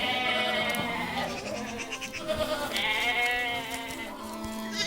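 Sheep on winter pasture in Hexigten, Inner Mongolia, bleat repeatedly, several animals overlapping in wavering, nasal calls that carry loudly with no talking.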